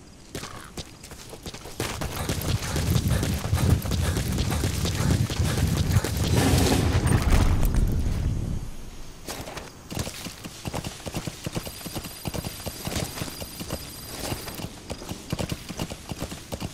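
Horse hooves clip-clop steadily while riding on horseback in Metal Gear Solid V: The Phantom Pain, a loud, dense rhythm of hoofbeats for the first half, then lighter, quicker hoof taps continuing to the end.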